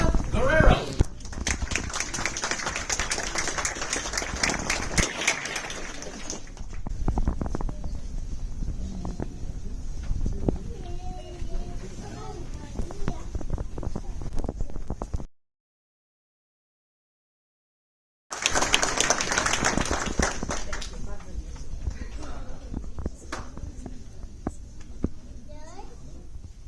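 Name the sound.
audience applause at U.S. citizenship ceremony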